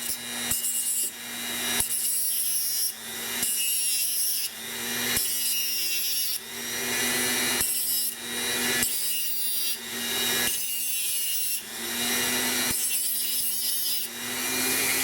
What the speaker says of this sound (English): Then you take a Dremel. You've got these cutting tools that are really handy